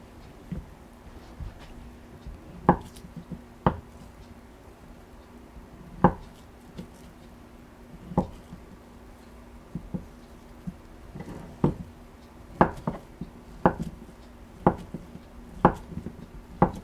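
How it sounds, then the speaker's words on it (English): Knife chopping food into cubes on a cutting board while making Korean budae jjigae stew: sharp, irregular knocks, sparse at first and then quickening into a steady rhythm, close and fairly quiet. "And then I'm going to cut it into cubes."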